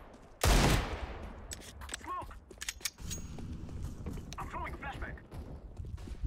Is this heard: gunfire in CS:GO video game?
yes